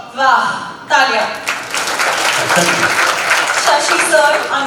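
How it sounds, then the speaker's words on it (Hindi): An audience applauds at a charity fundraiser show, with a crowd clapping in a dense, sustained patter right after a voice on a microphone calls for it. "वाह, तालियां."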